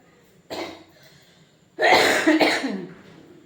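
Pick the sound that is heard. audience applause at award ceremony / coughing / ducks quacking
coughing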